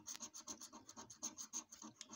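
Scratch-off lottery ticket being scraped with quick, rhythmic rasping strokes, about a dozen close, soft scrapes in steady succession with no talking.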